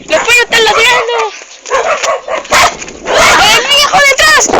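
Small dogs barking and yipping in rapid bursts on an outdoor walk, fairly close and loud, mixed with excited shouting voices throughout.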